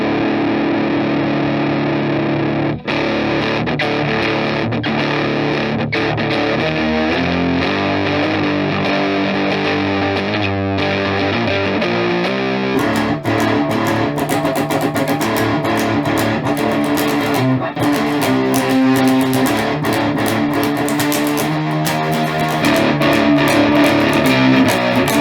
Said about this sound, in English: it's a good distortion tone for the most part